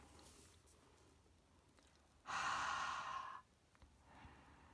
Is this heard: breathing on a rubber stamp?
yes